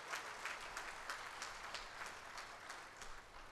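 Audience applause in a hall during a ministerial speech at the Constitution Club of India, fairly faint, with rhythmic, almost synchronized clapping bursts pulsing steadily.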